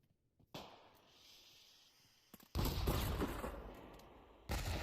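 Gunfire and a flashbang burst in the tactical shooter game Pavlov, with a quiet crackle giving way to a loud, dense volley midway and another sharp burst near the end, no talk.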